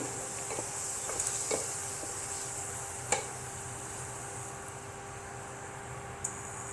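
Tomato masala frying in a pan for a potato pakora curry, a continuous hissing sizzle with a few sharp clinks of a utensil against the pan, no voices.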